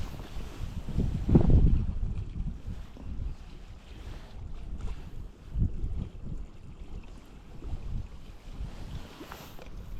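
Wind buffets the microphone during spinning fishing on the Norwegian coast, a rough continuous rush with a stronger gust near the start and another midway, water and boat noise faintly beneath, no talking.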